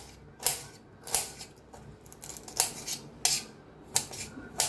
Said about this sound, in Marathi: असं थोडं बारीक बारीक कापून घ्यायचं आहे आपल्याला।